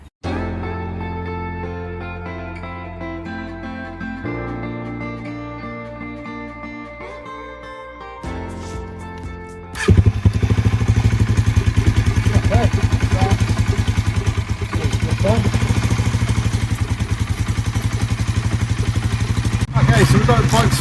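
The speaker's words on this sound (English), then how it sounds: "so we've got the bike started" A Honda CBR 125 motorbike with a flat battery and a charging fault starts up partway through and settles into a loud, steady idle that fills the rest of the stretch, preceded by other sounds.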